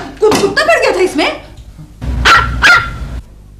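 A human voice gives a few rough, bark-like yelps in two short bursts, close and loud, imitating a dog barking.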